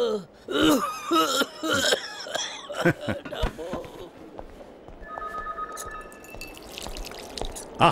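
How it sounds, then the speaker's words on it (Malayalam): A person talks, then a few rough coughing or throat-clearing bursts follow, and a faint high ringing tone sounds near the end. "ശരിക്കും ആഞ്ഞു ചുമച്ചോ"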